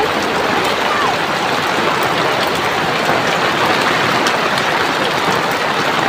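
Heavy rain pours outside in a dense, steady roar that stays loud and unbroken throughout.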